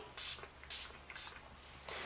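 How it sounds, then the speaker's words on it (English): Makeup setting spray is misted onto a face from about 8 to 10 inches away in three or four short, soft hissing pumps, quiet and close, with no talk. "So I'm going to hold it about 8 to 10 inches away from my face again and spray."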